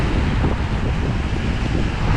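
Wind gusts across the microphone on a rainy evening walk through New York City, a steady close rumble of noise with no voices.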